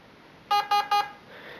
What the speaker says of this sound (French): J'attends les 3 bips.